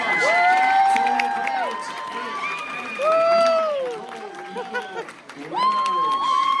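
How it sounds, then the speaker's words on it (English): Crowd at a math league summer tournament cheers and whoops loudly for gold medalists, with clapping mixed under high excited shouts and voices, swelling in bursts across the whole stretch. "Let's have a big round of applause for your"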